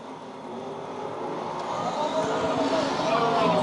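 Stock cars race around the oval at Lakeside Speedway, their engine roar building steadily and growing louder, while an announcer talks over the top.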